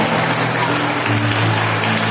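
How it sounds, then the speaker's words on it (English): Steady applause from a school audience at an awards ceremony, a dense even wash of clapping with a low hum underneath, continuing throughout. "Clap everyone."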